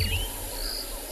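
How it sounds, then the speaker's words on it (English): A dawn chorus of birds on a cool morning safari, with thin, distant calls and chirps layered over a steady background hiss. "have a listen to all of the birds that are still having their dawn chorus"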